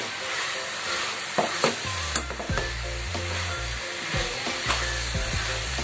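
A coconut ball mixture with cardamom fries in a pan with a constant loud sizzle, while a utensil stirs and scrapes it in sharp, irregular clinks and knocks.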